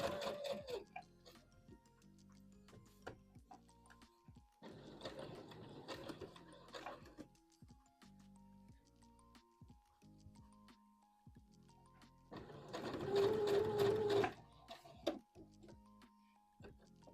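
Sewing machine top stitching a Vogue V2000 wrap dress, running in two distinct bursts of rapid mechanical whirring separated by quieter stretches of handling clicks and ticks, close and moderately loud.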